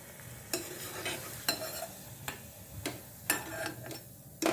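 Radish koftas frying in oil, a faint low sizzle under a series of sharp spoon clicks and taps on the pan at irregular intervals, close but quiet overall.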